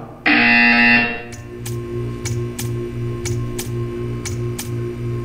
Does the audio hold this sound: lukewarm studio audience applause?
no